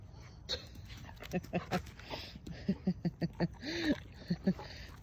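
German Shepherd dog whimpering in short, high-pitched whines, a rapid series of soft yelps and whimpers close by with one rising, drawn-out whine near the end, over a quiet room.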